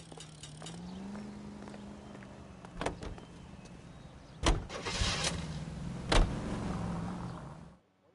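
Car engine from LA Noire driving, a steady low hum running throughout with a few sharp knocks and bumps near the middle and later, cutting off just before the end.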